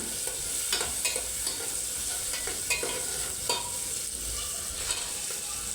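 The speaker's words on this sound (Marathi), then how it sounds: "आता आपण टाकू टोमॅटो कट केलेले तुकडे, ज्याने मटकीला अजून चव येईल" Chopped tomatoes going into a sizzling moth bean curry, a steady hiss of frying with repeated stirring scrapes and clinks, close and continuous, no voices.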